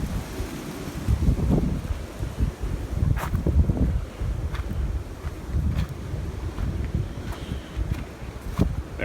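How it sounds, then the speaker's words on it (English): Strong, gusty wind roars continuously across an open outdoor spot, buffeting the microphone with low rumbling surges and occasional rustling, loud and unbroken with no talking. "I just want you guys to see and listen to like how windy it is today."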